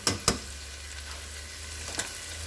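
Meat for cheesesteak sliders fries in a pan with a soft, steady sizzle, broken by a few brief scraping stirs near the start and end, with no talking.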